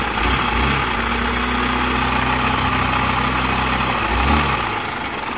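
A Ds150s motor scooter engine idling close up, a loud, steady mechanical drone with a faint underlying rattle, running continuously without pauses.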